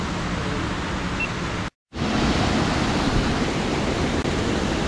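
Menzenschwander waterfall near St. Blasien in the Black Forest roaring as a loud, dense, steady rush of falling water, broken once by a brief silent gap before resuming.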